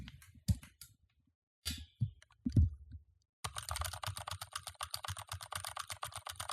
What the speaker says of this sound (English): Gateron Alias switches, which are the switches that I personally use with my own keyboard